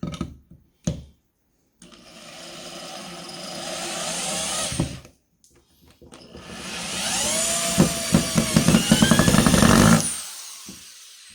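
A power tool whirs in two long bursts while driving a screw into a pilot hole in wood, with short clicks and silences between runs and a louder, rising whine in the second burst.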